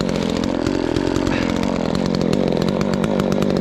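A Poulan 295 chainsaw runs loud and close with a steady buzzing, slightly uneven engine drone and no pauses.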